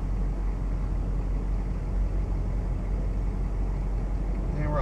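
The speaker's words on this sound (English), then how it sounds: "And we're idling it." A 1991 Ford F250 engine idling in drive, a steady low rumble that stays even and close throughout, with a brief voice at the very end.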